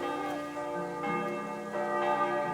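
Bells peal from a church in Kingdom Come II, a medieval game, three clear strikes roughly a second apart, each blooming into a long humming tail. The ringing is close and fills the space alone.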